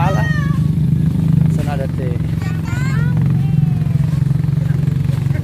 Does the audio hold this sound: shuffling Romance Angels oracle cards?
no